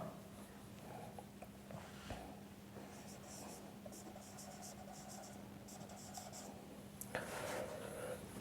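Chalk or marker strokes on a classroom board during an English grammar lesson on proper nouns, a soft continuous scratching over a low steady hum, with faint speech-like murmurs and a louder rub near the end.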